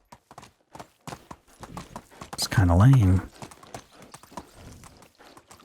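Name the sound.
donkey hooves clip-clopping in Medieval Dynasty video game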